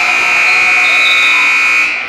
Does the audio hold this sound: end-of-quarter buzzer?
yes